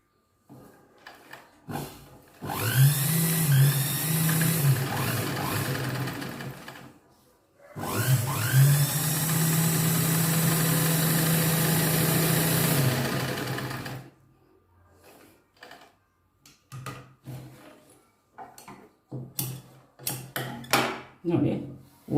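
A sewing machine runs two steady whirring stitching bursts of about five seconds each, separated by a short pause, with clicks and handling noises around them and some nearby talk.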